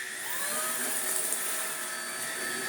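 A Numatic NBV190 backpack vacuum fitted with a custom cordless powerhead runs on low speed, a steady loud whirring motor whine with a rising tonal sweep, close and continuous with no talk.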